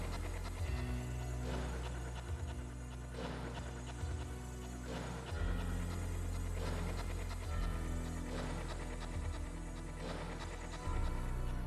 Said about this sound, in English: Stop panting into the microphone,